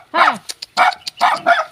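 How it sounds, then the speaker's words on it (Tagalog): Several dogs at a rural farmstead bark in quick, close bursts, sharp yips and bow-wows repeating in an uneven rhythm, loud and near. "Ang daming aso."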